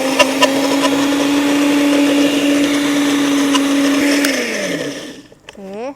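A kitchen blender grinds toasted coconut into kerisik with a loud, steady motor whine and rattling, then spins down as it switches off.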